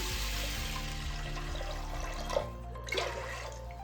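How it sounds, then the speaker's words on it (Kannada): Water poured into a cooking pot of fried grains for a sweet moong dal payasa, a steady close rushing pour that tapers off near the end with a couple of small splashes, no talk. "ನೀರು ಹಾಕಿದ್ದೀನಿ"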